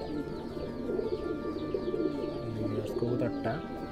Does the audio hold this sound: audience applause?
no